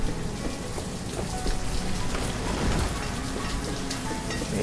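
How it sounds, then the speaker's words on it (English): Heavy rain in the city-building video game Banished, a dense, steady downpour hiss that stays loud and unbroken throughout, with no voices. "It is raining as heavily in this game as it has been raining in my hometown this week."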